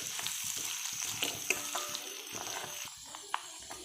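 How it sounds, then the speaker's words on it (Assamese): Dried fish seasoned with salt and turmeric fries in a pan, a soft, continuous sizzle with occasional light pops and faint stirring scrapes, close but quiet. "অলপ টাইম ভাজিব মাছটো।"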